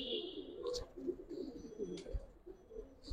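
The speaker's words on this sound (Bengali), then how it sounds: "একটা নর কবুতর।" Giribaz pigeons, including a male, coo quietly in a loft, faint low murmurs running continuously with a few soft clicks and rustles, no speech.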